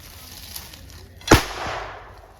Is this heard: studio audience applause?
no